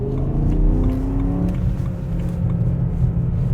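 BMW E92 M3 V8 with a plenum revving high while on the move, a loud rising engine note that sweeps up then settles into a steady droning rumble, heard from inside the car with no talk.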